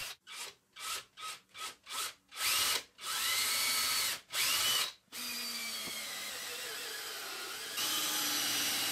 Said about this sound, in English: use this stone to open up the hole enough to accept a countersunk screw